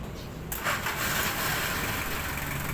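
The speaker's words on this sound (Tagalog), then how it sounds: "naka-andar na yung makina ng sasakyan natin" A car engine cranks and catches after its battery has been restored, then settles into a steady idle, close and fairly loud with no talking.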